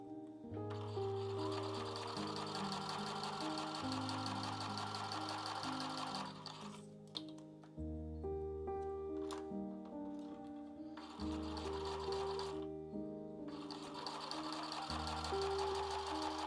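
A sewing machine stitches triangular fabric pieces for a shoulder bag, running in steady close bursts of rapid whirring with short pauses between seams.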